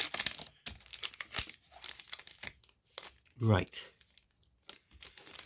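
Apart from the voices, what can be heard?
tearing open a Match Attax trading card pack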